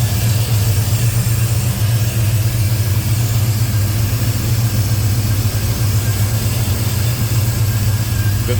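A 1969 Oldsmobile 442 engine with an Edelbrock aluminum intake idles steadily up close, a loud, even rumble with a deep low hum and no speech.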